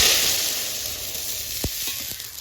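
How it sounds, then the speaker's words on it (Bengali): Garlic fries in a pan with a steady, loud sizzle that slowly fades, broken near the end by a few sharp clicks of stirring. "রসুনটা দেখো বাদামি কালার হয়ে গেছে, ভাজা হয়ে গেছে"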